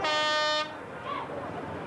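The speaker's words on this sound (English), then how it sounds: "get your air horns ready, let's applaud the boys" A loud, brassy air horn blast at a speedway meeting sounds for about half a second, then cuts off, leaving faint crowd noise and distant murmuring.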